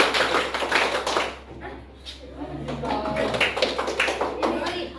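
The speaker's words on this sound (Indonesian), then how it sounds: "Tepuk 4 kali" A classroom full of students claps hands together in unison on command, a few sharp, close claps with voices talking over and around them.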